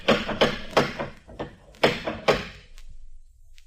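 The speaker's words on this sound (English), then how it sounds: "Anyone in the neighborhood would have heard that knock" Loud knocks on a door in an old-time radio drama, heard as sharp raps in quick groups with a brief pause and a final pair of blows, then a faint tap and quiet room tone. No one speaks.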